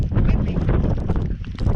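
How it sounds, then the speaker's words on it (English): Steady wind on a mountain summit buffets the microphone with a constant low rumble and roar, loud and continuous throughout, with no voices. "It's just windy a little bit now, and the rain is coming."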